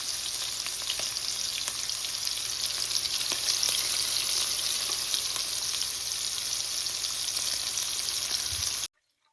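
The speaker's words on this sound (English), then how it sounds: "I'm gonna heat it up and then add the sausage." Fully cooked sausage sizzles steadily in a hot pan, a constant bright hiss with a few faint pops and stirring scrapes, close and alone before it cuts off.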